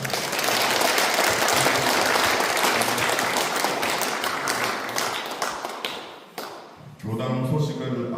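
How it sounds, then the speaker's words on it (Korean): Members gathered for a Sunday Won Buddhist service at a temple give a long round of encouraging applause, full and steady, fading out near the end before voices and other sounds resume. "격려의 박수 부탁드립니다"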